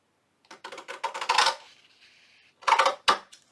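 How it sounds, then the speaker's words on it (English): Scissors snipping through magazine paper for a junk journal cover, a few quick crisp close cuts in two short bursts separated by a pause. "Okay, and then I'm going to cut here and cut this out here."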